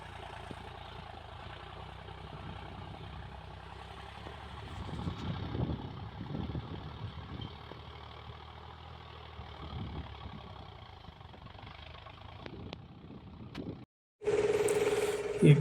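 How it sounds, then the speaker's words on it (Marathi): A tractor ploughs a farm field in summer, its engine running steadily at mid distance with rattling, clanking implement noise throughout, ending with a brief dropout and a louder burst. "अशा प्रकारे ट्रॅक्टरने नांगरट चालू आहे"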